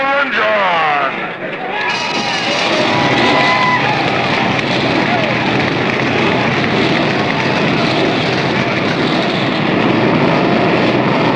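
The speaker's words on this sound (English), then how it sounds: "Gentlemen, start your engine!" At the 1976 Carolina 500 at Rockingham Speedway, a field of stock car engines fires up together after a brief announcement voice and swells into a loud, sustained roar.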